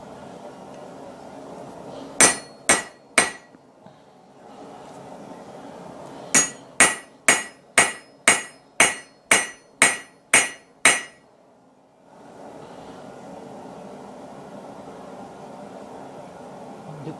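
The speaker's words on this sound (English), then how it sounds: "I'm going to go ahead and take my ball end punch, find that divot in there" A hammer drives a ball end punch into a hot railroad spike at a forge: three sharp ringing strikes, a pause, then nine quick, evenly spaced metallic blows, close and loud.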